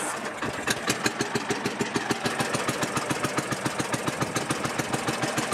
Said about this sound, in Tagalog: Ingay na yung motor.